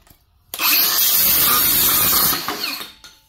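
Close and loud, a cordless power saw running on a universal battery for DeWalt, Milwaukee and Makita tools starts abruptly and drones steadily for about two seconds under load, then eases off and cuts out.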